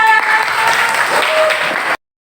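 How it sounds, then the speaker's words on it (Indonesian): Brief burst of clapping from a small group in a classroom, steady and fairly close, lasting about two seconds before cutting off abruptly. "tepuk tangan buat Meisha."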